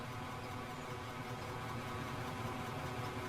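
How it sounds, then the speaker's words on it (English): Steady vehicle engine rumble from the video game Out of Ore, a continuous mid-to-low idling drone that holds at an even level throughout with no talk over it. "I just want to turn the engine noise up a little more, just so you can hear the game, too."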